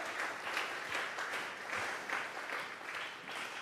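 A church congregation claps together, a steady wash of many hands applauding at moderate distance, rising and falling slightly over a few seconds without clear voices.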